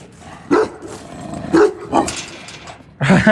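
A dog barks in four sharp, loud bursts spaced unevenly, close by, indoors at home with a faint background in between.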